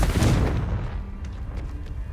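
Confringo fire spell blast in the video game Hogwarts Legacy: one loud, booming burst up front that rolls off into a fading rumble, no voices.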